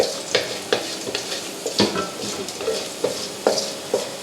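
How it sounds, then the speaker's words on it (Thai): Garlic fries on low heat in a pan while being stirred, a close, steady sizzle broken by regular scraping and clinking strokes of a utensil against the pan. "ใช้ไฟอ่อนนะฮะเจียวไปเรื่อยๆเค้นมันออกมาความหอม"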